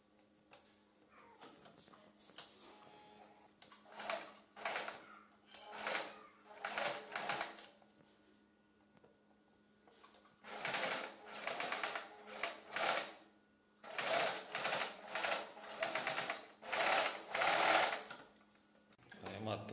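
A domestic sewing machine stitches a homemade fabric face mask, running in rapid bursts of whirring needle clatter separated by short pauses, loud and close, with a longer quiet gap midway.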